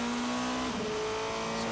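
A race car in qualifying for the 6 Hours of Shanghai, a WEC endurance race, takes the final corner. The engine drones at a steady high pitch, then its note drops and shifts as it comes through the corner, loud and close.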